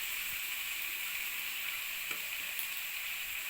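Shavige upma (rice vermicelli) fries in a pan with a steady, even sizzle and hiss that holds for the whole stretch, close and alone with no talking.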